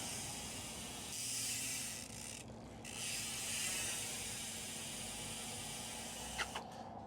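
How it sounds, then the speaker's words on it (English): Rear hub of a Throne Cycles Goon Runner bike with high engagement, freewheeling in a fast, steady ratcheting buzz that runs almost continuously and close up, with a couple of sharper clicks near the end. "Listen to this hub."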